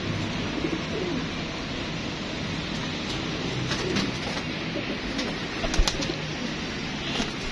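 Pet pigeons cooing in a loft, a dense bed of soft throaty coos from several birds with occasional wing flutters, close and steady throughout, no talk.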